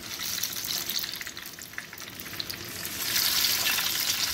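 Tomato hits hot oil in a pan for Chiapas-style mole, crackling and sizzling continuously with bright spitting bursts, growing louder near the end.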